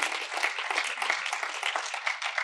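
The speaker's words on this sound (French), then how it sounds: "D'Air France, on peut les applaudir également très fort." Brief burst of audience applause for Air France at an annual top-advertisers awards event, a steady, moderately distant patter of many hands.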